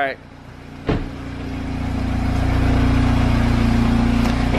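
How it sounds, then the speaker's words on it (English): A car starts and idles as it is pulled out of a parking spot, a low steady engine rumble building and holding close by after a brief thump at the start. "pulling out the car by herself today"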